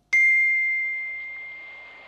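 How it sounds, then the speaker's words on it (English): A doorbell gives a single clear electronic ding that rings out and slowly fades over about two seconds, heard alone in a quiet room. "Just as they had finished, the doorbell rang."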